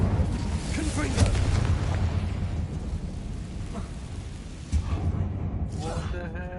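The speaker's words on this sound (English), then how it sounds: "Confringo!" A Confringo blasting spell goes off in Hogwarts Legacy inside an abandoned mine, a deep rumbling boom that rolls on loudly and steadily and fades slowly over a dense game soundscape.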